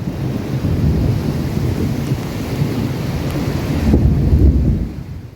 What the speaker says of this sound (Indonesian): hujan lebat disertai petir yang mengguyur kota Langsa pada Senin 7 Juli 2025 malam